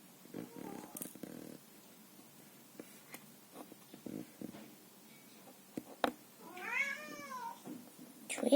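A cat gives a drawn-out, wavering meow near the end, following scattered rustles and small thumps nearby; another brief cry starts right at the close.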